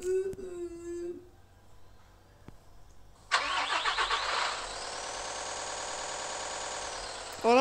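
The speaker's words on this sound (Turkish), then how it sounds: "Araba gitmiyor lan." A car engine cranks and catches midway, then settles into a steady running hum, fairly quiet and close, after a few faint sounds earlier.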